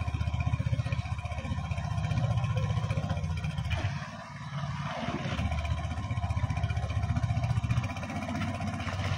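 A boat with a strong 7.5 horsepower engine runs steadily and close by, its droning motor holding a constant throb with a brief dip midway, with no talk over it.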